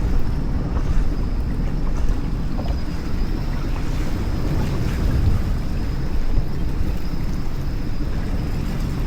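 A jet ski crosses strong, choppy waves off Boracay, giving a steady, loud rush of engine, water and wind buffeting the microphone throughout, with no talking.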